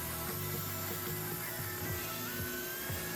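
A small, cheap random orbital sander buzzes continuously against a guitar body, a dense, even grinding whir held close and loud throughout.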